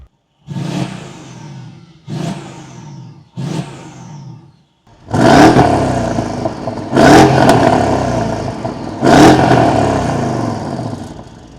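A Mercedes CLS 63 engine revs sharply three times in short bursts, then roars through several longer, louder revs, close and aggressive.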